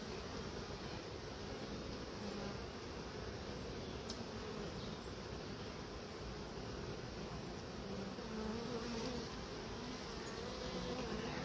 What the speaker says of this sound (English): There are a good 3 framed of bees in here